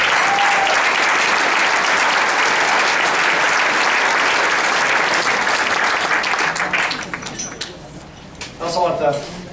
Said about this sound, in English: I feel like I need to give you a round of applause